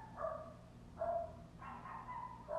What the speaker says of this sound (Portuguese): Pô, Pretinha, começou a latir agora.